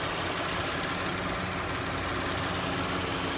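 A 2018 Volkswagen Atlas SEL-Premium with a 3.6-liter V6 idles under the open hood, giving a steady, even hum with a broad constant hiss and no speech.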